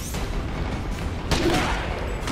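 A burst of gunfire erupts amid a dense, noisy soundscape in the video game The Amazing Spider-Man 2, with a sharp loud crack near the middle over steady rumbling background.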